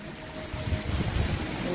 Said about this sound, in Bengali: ঝড়টাও বেশি বেশি। ঝড় ছেড়ে মোটেনি, হ্যাঁ হাওয়াটা দিচ্ছে খুব।